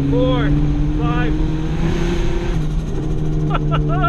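Turbocharged budget car engine under load, a steady droning rumble with rising whistle-like tones, likely the turbo spooling as boost builds, heard from inside the cabin with a voice speaking over it.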